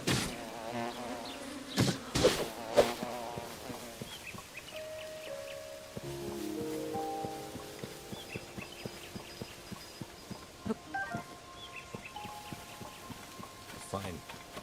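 Swarming bees in Tears of the Kingdom produce a soft buzzing texture beneath sharper game effects and tonal chimes, with a few louder bursts early on.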